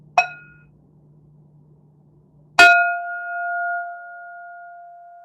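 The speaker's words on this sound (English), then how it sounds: "Comes first bell." A meditation bell rings once, briefly and faintly, then after a short pause is struck clearly and loudly, its pure tone lingering and slowly fading in a quiet room.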